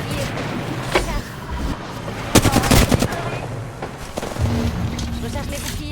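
Rapid automatic gunfire bursts in Apex Legends, mixed with game effects and a player talking over it, the shots clustering into a dense volley midway.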